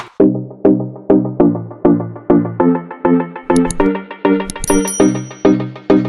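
A notification bell sound effect rings out in a rapid, steady series of bright, loud chimes with sparkling high tones near the end, with no voices.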